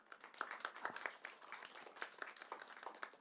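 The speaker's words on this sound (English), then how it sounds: "I think this phone deserves a clap on this" Scattered audience clapping at a Micromax Dual 5 phone launch event, a moderate run of irregular hand claps heard at a middle distance, fairly quiet and without talk.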